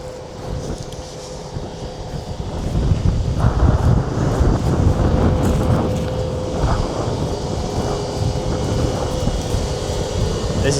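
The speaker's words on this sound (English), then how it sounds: "The wind's getting up" Wind gusts across an open farm field, a steady rushing roar with buffeting against the microphone that swells and eases throughout, with no talk.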